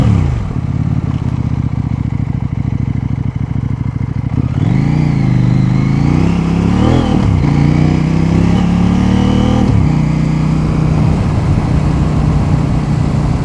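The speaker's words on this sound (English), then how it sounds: "This is exactly the type of riding I want to do with this bike." A CFMOTO Ibex 800T motorcycle riding along a road: a continuous loud engine drone mixed with wind rush, the pitch rising and falling as the bike speeds up and eases off.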